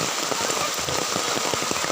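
Steady rain falls outdoors, a dense, even hiss of drops pattering on surfaces nearby, with no voices.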